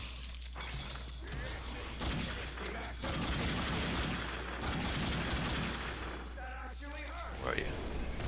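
Enemy gunfire in The Darkness 2 crackles in a steady burst of shots under a loud, busy game mix, with a few sharper impacts and shattering near the end.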